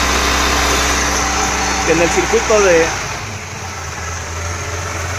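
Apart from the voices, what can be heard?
truck engine running with Holley carburetor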